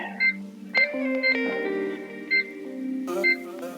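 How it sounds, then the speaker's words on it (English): A kitchen timer is set while tofu taquitos bake, giving a quick run of short, bright electronic beeps, fairly close and loud, with no talking. "That timer started."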